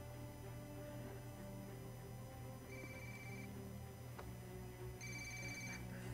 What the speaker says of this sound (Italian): È meglio se rispondi al telefono, agente Bowman.